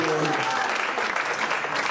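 A church congregation applauding and cheering during a Friday morning service, a dense, loud wash of clapping with voices calling out mixed in.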